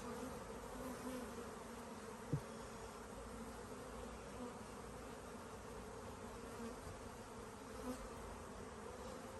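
Honeybees hum steadily inside a hive where they have built fresh comb, a faint, continuous buzzing drone with occasional soft knocks.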